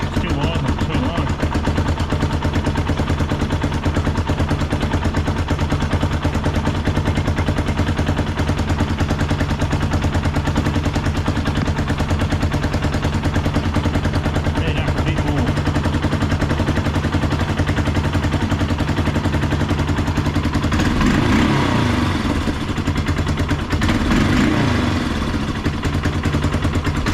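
Idling engine of a 1987 or 1995 Big Bear 350 ATV after a carburettor clean, a steady low, slightly lumpy putter close by with a few brief throttle blips near the end; voices talk intermittently over it.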